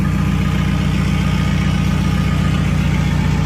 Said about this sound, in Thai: ติดเครื่องแล้ว เราจะไปเทสระบบการขับเคลื่อนครับ